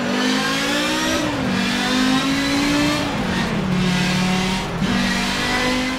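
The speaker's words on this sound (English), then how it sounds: "You hear it kicking in at higher RPM, meaning it's probably a turbo." An Audi turbo engine in the Forza Motorsport 7 racing game revs hard at high RPM, its loud, continuous tone climbing and dropping back at gear shifts roughly every couple of seconds, with no talk.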